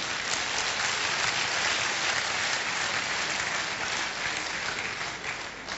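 Loud, sustained applause from a seminar audience, a thick continuous roar of clapping that holds steady and eases slightly near the end.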